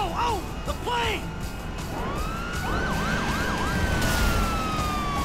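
A police car siren in GTA V wails through repeated rising and falling sweeps, then switches to a fast yelping pattern, over continuous game noise with some talk.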